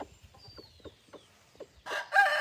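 Chickens in a farm pen cluck in soft, intermittent bursts, followed at the end by two louder, harsher squawks close by.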